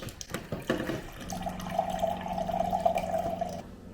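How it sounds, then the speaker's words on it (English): Tap water runs steadily into a large ceramic mug for several seconds, a close, continuous pouring hiss with a rising tone as the mug fills, preceded by a few clinks and handling knocks. "I'm just gonna make myself a cup of water."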